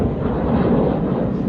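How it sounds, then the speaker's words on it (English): An airplane passes overhead as a loud, steady low roar with a broad rumbling wash, heard alone and without talk. "you always hear the airplane before you see it"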